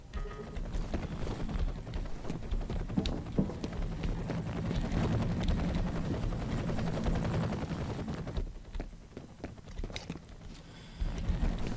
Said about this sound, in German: Und ich höre draußen schon einen Hubschrauber.